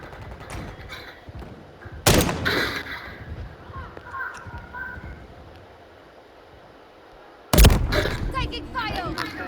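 Call of Duty gunfire: two sharp, loud bursts of shots about five seconds apart, with quieter game ambience between them and voices speaking.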